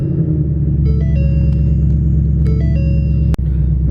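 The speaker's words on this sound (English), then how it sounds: "Man, this car sounds so good" Freshly tuned Ford Mustang GT V8 running just after start-up, a deep steady rumbling idle close by with a constant low drone, plus faint electronic beeps and a short click near the end.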